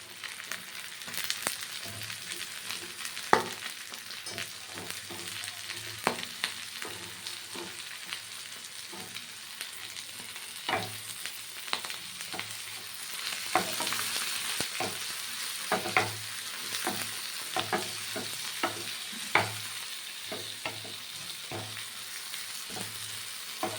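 Brinjal frying in oil rendered from fish for a chorchori, a steady soft sizzle broken by frequent scraping and stirring knocks of a spatula in the pan, close and fairly quiet.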